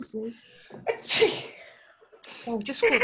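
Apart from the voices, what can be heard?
sneeze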